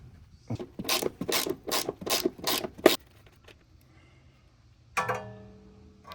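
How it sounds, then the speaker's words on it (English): A ratchet turns a 14mm socket to loosen the rusty upper rear shock nuts on a 2018–2024 Honda Odyssey. About six close, rasping clicking bursts come in quick succession, then a pause and one more short ratcheting burst. "Next I use 14mm socket and ratchet to remove the two upper nuts."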